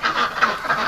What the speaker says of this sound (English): White ducks at this end, colored ducks at the front.